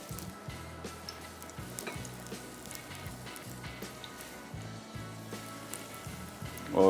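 Shami kababs frying in hot oil, a steady close sizzle with soft crackles and popping, running evenly throughout with no talking.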